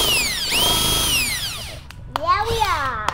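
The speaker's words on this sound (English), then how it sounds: "Now we're going to drill the air hole." A power drill bores an air hole in a plastic bucket, whining up and holding a high pitch, winding down, then revving again in a shorter burst, close and loud, with a voice in between.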